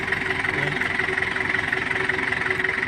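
A Nissan Big M pickup truck engine idles steadily with a low, even rumble and faint knocking, close by and continuous, with no one speaking.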